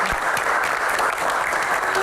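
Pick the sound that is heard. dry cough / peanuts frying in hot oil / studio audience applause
studio audience applause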